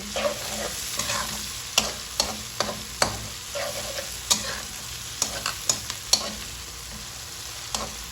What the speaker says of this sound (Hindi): ये डाल के इन सबको अच्छे से आपने भून लेना है।